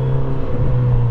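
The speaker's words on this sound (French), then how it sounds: "Puis ce pot d'origine, c'est incroyable quand même." A Kawasaki Z900 RS motorcycle on its stock exhaust, a loud, close, steady engine drone holding a deep hum through a short burst without talk.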